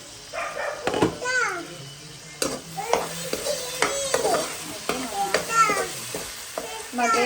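Tomatoes frying and being stirred in a pan for a tuna dish, with a steady sizzle and repeated scraping stirs close by, while voices, including a child's, talk over the cooking.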